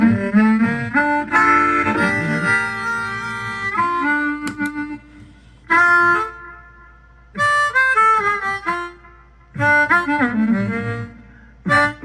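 Plucked harp notes run through a Tom's Line Pure Echo delay pedal, ringing phrases with soft repeating echoes trailing each note, played in several bursts separated by short pauses.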